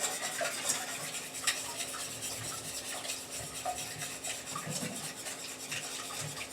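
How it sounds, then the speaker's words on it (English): Eggs being beaten in a bowl for a cornflake-crusted, KFC-style fried chicken coating: a steady run of quick scraping, tapping strokes of a utensil against the bowl, close and fairly quiet, with no talking. "Now we need to beat up the eggs."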